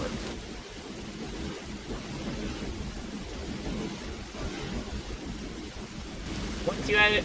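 Steady rain with low rumbling thunder in the horror game Backrophobia, a continuous wash of downpour filling the whole stretch and swelling slightly near the end.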